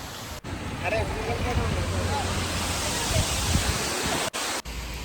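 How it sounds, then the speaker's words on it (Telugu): Water rushes steadily at Dindi on the road to Srisailam, a broad continuous roar like a weir or falls, with brief dropouts near the end and voices faintly under it. "సో వాటర్ అయితే చాలా ఫ్లో అవుతున్నాయి."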